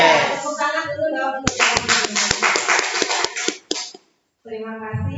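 Audience clapping at a school presentation, a burst of hand claps lasting a few seconds between stretches of talk, then a short silence before a voice returns.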